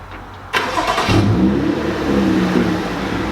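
A BMW F30 335 fires up by remote start from its display key: a sharp starter crank at about half a second, then the engine catches with a brief rev and settles into a steady, close idle.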